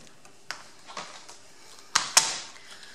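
Paper for a notepad box is cut by hand in a few short, sharp snips and scrapes, with two louder cuts near the end, close up and without talking.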